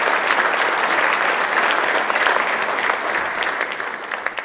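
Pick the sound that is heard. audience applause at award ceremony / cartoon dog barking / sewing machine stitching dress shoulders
audience applause at award ceremony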